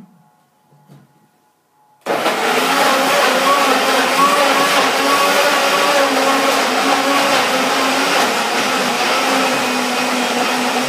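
After a brief quiet start with faint handling, a blender blending apples roars to life and runs loudly and steadily, a dense whirring grind that continues to the end.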